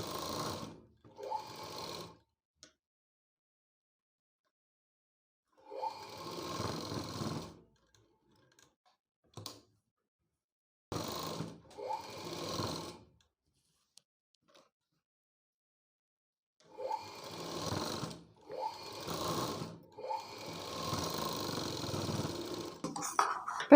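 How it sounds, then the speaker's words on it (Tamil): Sewing machine stitching fabric for a blouse, several separate bursts of fast rhythmic mechanical whirring close by, separated by silent pauses, with no talk. "தையல் போட்டு காமிக்கிறேன்."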